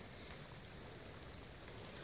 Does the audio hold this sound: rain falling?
yes